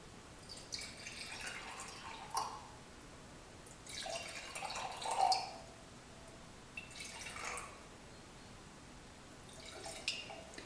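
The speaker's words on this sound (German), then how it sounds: "Anschließend schenkst du Wasser in die Weingläser ein." Water poured into wine glasses for an acoustics experiment, a few short, faint trickling pours spaced a couple of seconds apart in a quiet room.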